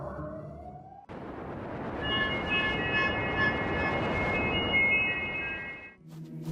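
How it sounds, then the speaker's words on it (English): Emergency sirens wail loudly over a rumbling background, their rising and falling tones sustained for several seconds before cutting off abruptly. "Sirens wailed soon after."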